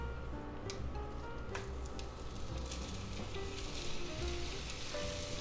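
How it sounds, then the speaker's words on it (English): Smoked sausages hit a hot oiled pan and set off a steady, close sizzle of frying fat that fills the kitchen without a break, with faint scraping underneath and no speech. "Now we're going to add our sausages. These are smoked, so they're good."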